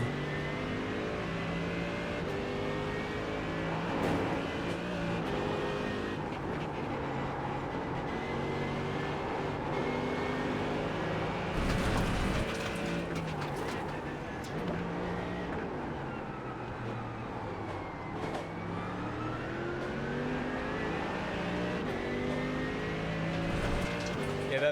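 Porsche race car engines in a racing video game roar steadily and loud throughout, with shifting pitch as cars rev and accelerate down a straight, a continuous dense drone with a voice faintly underneath at times.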